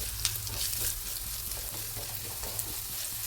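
Dried red chillies and curry leaves fry in oil for an okra pachadi tempering, producing a steady, close sizzle with scattered small crackles throughout.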